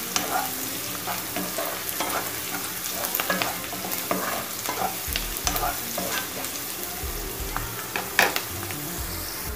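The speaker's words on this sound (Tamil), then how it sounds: "இப்போ வெங்காயம் நல்லா வதங்கியாச்சு" Onions sautéing in a pan for egg kurma, with steady frying sizzle and repeated scraping stir strokes throughout, close and moderately loud with no talking.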